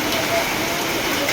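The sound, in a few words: rain starting to fall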